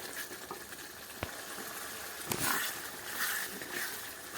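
Cut potatoes sauté with dried bhetki fish in a pan, giving a continuous hissing sizzle with occasional sharp ticks and stirring scrapes, close and fairly loud.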